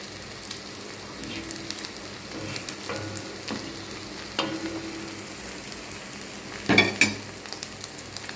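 Sliced taro root fries in a shallow layer of oil in a pan, giving a steady close crackle and sizzle with occasional louder pops and utensil scrapes near the end.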